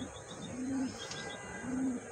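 Pigeons kept by a breeder give two soft, low coos about a second apart, faint against a quiet background.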